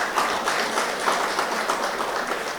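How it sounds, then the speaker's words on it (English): A large crowd at a golf event gives itself a round of applause, steady close clapping for a few seconds with no talk over it. "I want you to give yourselves a round of applause"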